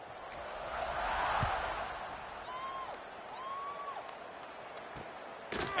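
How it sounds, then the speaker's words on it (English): A stadium crowd hums and swells in the college football video game NCAA 26 after a score, a broad murmur rising and easing, with whistle-like tones and a sharp burst near the end. "this crowd is buzzing after that last score"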